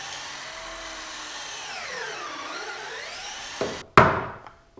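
A power drill bores into a wooden live edge slab, its whine dipping and rising under load for several seconds before ending with a sharp knock and a short, fading whir.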